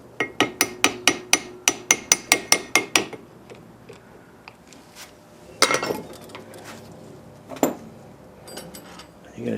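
A rapid run of about a dozen crisp, ringing hammer taps on small metal pins of an antique Briggs lever-start engine, evenly spaced, then a few scattered knocks and clinks.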